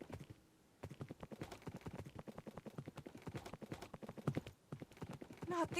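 Hooves clip-clop in a quick, steady rhythm as blocky horses gallop in Minecraft, the patter close and continuous with brief game sounds near the end.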